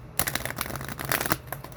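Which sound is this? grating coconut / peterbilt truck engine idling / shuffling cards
shuffling cards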